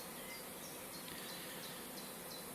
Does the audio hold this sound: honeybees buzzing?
yes